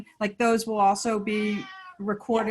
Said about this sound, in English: That's our cat, sorry, in the feedback.